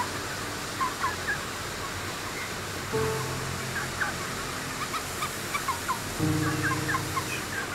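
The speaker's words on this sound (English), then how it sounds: "One of the chickens, they're stepping on the bird's face." Chickens crowd a UK chicken farm shed, a dense flock murmuring and clucking over a constant ventilation roar, with scattered brief calls and a louder swell of birds toward the end.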